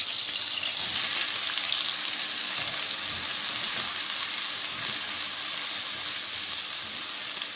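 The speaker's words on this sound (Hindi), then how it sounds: "अब इसी पैन में मैं मज़ीद थोड़ा सा ऑयल शामिल कर रही हूँ और इसमें प्याज डाल दूँगी।" Onions frying in mustard oil in a pan, with a steady, bright sizzle that holds at an even level throughout, close up and without talk.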